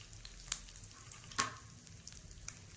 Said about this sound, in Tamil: அடுத்து கொஞ்சம் கருவேப்பிலை. இது எல்லாம் பொரியணும்.